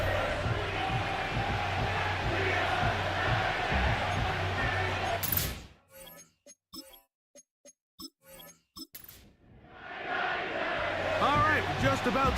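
Stadium crowd noise in an EA Sports football game for a Jets at Titans matchup, a dense steady roar that cuts out abruptly midway, leaving scattered clicks and brief bits before the loud crowd swells back in.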